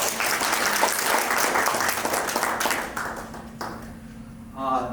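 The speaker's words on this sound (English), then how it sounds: "give Gary a round of applause." Audience applauding a guest named Gary at an antiques appraisal client event, a dense, steady wash of clapping that thins toward the end, with voices faintly mixed in.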